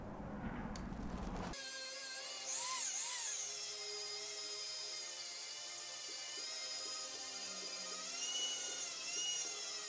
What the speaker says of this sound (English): now I'm gonna polish it up